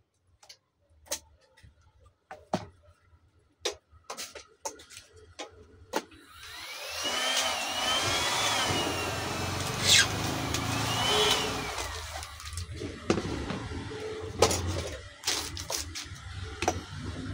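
A polythene packet heat sealing machine runs with a steady mechanical whir and hum for several seconds, after scattered clicks and taps of handling, then stops and leaves more clicks.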